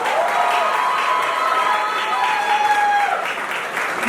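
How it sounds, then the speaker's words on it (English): A large crowd gives loud, sustained applause for a school principal, dense clapping with some cheering and whistling mixed in, lasting throughout. "a big round of applause for your principal for giving Mahima this shot"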